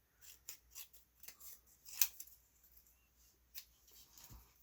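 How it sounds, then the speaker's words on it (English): Scissors snip through a foam sheet while making a spring belly band card, a series of short, quiet crisp cuts spaced irregularly, close up with no talking. "Cut a little more of that off than I wanted to"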